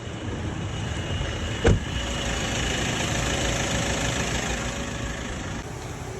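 A Toyota Vigo pickup engine idles with a broken, shattered gearbox bearing, giving a loud, steady, rough mechanical drone with a constant whine and one brief knock partway through, close up.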